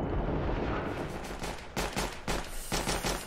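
Rapid gunshots in the video game Counter-Strike, several sharp cracks in quick succession over a faint, steady background of in-game ambience.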